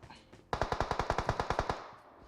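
Automatic gunfire in the mobile battle royale game PUBG Mobile: a single rapid burst of about a dozen evenly spaced sharp shots, crisp and close, then fading out.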